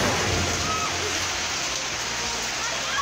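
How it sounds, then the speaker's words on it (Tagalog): Heavy rain with a hailstorm in South Cotabato, where corn-kernel-sized ice fell: a dense, constant roar of pounding precipitation, loud and unbroken for three seconds. "Nakaranas po ng hailstorm o pag-ulan ng yelo sa ilang lugar sa South Cotabato."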